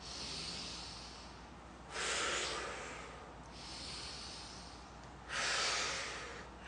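Slow, close breathing during a fascia face exercise, with soft airy inhales and exhales alternating in a steady rhythm, two stronger breaths standing out, quiet and alone.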